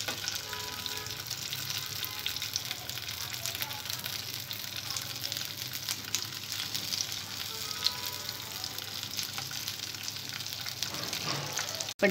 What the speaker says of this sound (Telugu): ముందుగా స్టఫ్ చేసుకున్న బెండకాయలు వేసుకోవాలి